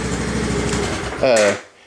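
A repaired sandrail engine idles with a steady low rumble close by, then briefly revs higher before cutting off and dropping away to quiet.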